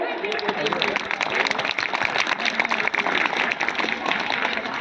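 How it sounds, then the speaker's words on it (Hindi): Dense applause from a school audience at a Republic Day gathering at Saraswati Vidya Mandir in Chandausi, Aligarh, a steady wash of many hands clapping throughout, loud and continuous with faint voices mixed in. "क्या ये तालियों का नहीं था?"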